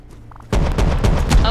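Bradley tank firing in the modded Rust survival game: a sudden loud boom breaks in after a quiet moment, followed by a rapid burst of heavy cannon shots, close and dense.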